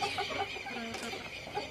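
Young hens, future breeders, clucking close by in a farm run, a soft busy chorus of overlapping clucks and murmurs over a short stretch.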